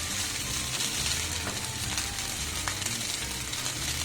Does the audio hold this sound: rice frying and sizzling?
yes